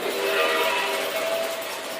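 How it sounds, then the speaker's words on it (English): Model train with four cars running on its track, a steady, close, continuous rumble and rattle with no pauses. "So we got the train running"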